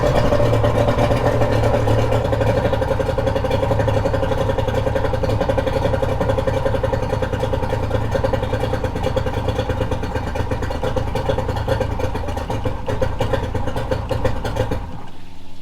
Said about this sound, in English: This is what an engine looks and sounds like when it runs out of fuel.